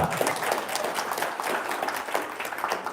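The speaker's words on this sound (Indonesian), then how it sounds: "Tepuk tangan dong." Audience applause at an Indonesian talk or seminar, a dense, steady patter of clapping from a crowd filling the whole stretch at moderate loudness, with no talking over it.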